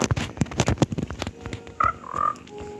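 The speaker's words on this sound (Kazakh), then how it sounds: "бақалардың дауысы" Frogs croak in the Minecraft video game: a few scattered tonal croaks and chirps follow a run of quick clicking game sounds, moderately loud with no talking.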